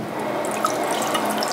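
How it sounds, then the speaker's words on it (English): Hot water runs from a tap in a steady, close hiss and splash, with a few small drips and bubbles scattered through the even flow. "run the hot tap"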